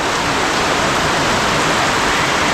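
Heavy rain pours down steadily, soaking everything in a dense, continuous hiss with no pauses or voices.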